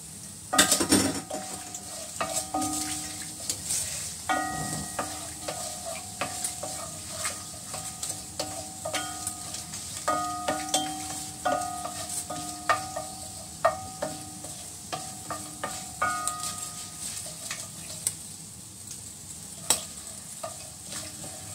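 Cumin seeds and dry spices sizzle in oil in a pan for peas pulao, with a spoon steadily stirring and clinking against the metal over a continuous frying hiss, and no one speaking.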